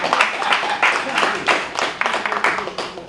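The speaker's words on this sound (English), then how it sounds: "Round of applause, Nanny." Audience at a Queen Nanny Festival conference giving a round of applause, dense continuous clapping from many hands throughout, fairly loud and close, with cheers or voices mixed in.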